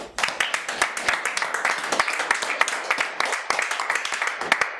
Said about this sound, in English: can we once more give her a round of applause?